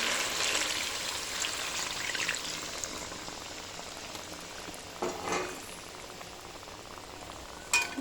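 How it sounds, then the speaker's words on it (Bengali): A hilsa fish curry simmers in a pan as a little water goes in. The result is a soft, steady bubbling sizzle with a few brief scraping clinks. "এবার আমি এর মধ্যে একটুখানি জল দিয়ে দেবো"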